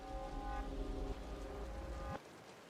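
Rain falls in a video game scene, a soft steady wash under a sustained tonal drone and low rumble that cuts off abruptly near the end, leaving quieter rain.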